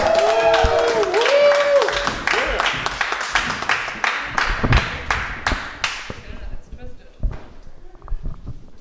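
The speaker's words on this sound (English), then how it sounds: "Keep clapping. Keep clapping." A comedy club audience claps in a synchronized, rhythmic beat to welcome a comedian, loud at first and then fading into sparse taps; a voice speaks briefly near the start.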